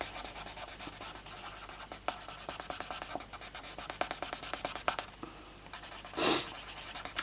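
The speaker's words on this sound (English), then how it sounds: "I'm just pressing onto the paper and it seems to, I guess it's burnishing," Chalk crayon pressed and rubbed against paper while colouring, giving a steady close scratching, burnishing drag with repeated short strokes and one brief louder swipe near the end.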